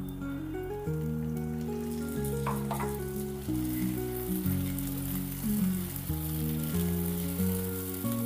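Tomato tipped into onions already browning in a frying pan for a Katla fish and cauliflower curry, giving a steady, close sizzle that runs throughout beneath prominent background music.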